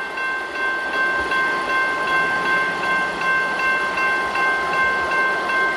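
A Union Pacific intermodal freight train rumbles steadily at a level crossing while a sustained horn tone rings out over the noise, fairly loud and without speech.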